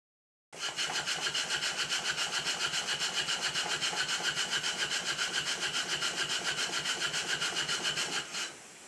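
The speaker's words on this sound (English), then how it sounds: "I'm about to run the engine, so I'm going to stop speaking." A Stuart No. 9 horizontal steam engine model running with its timing slightly retarded, a fast, even chuffing and rubbing beat that starts abruptly, holds steady and close for about eight seconds, then stops.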